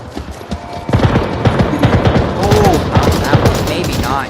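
Gunshots in the virtual reality shooter Onward are heard as a string of sharp reports, then a quicker rattling burst of automatic fire at mid distance. Faint voices and game noise sit underneath.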